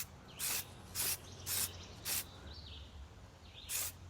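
Five short aerosol spray bursts from a paint can applying camouflage to an AR-15 rifle, each about a fifth of a second, spaced fairly evenly with quiet gaps and a low hum underneath.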